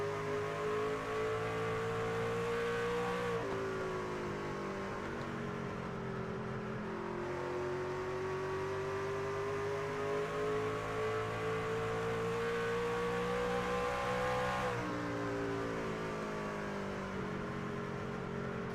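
A race truck engine in a racing video game, at the Richmond track, drones steadily at high revs, its pitch slowly climbing, dipping briefly at gear shifts, loud and continuous with no talking.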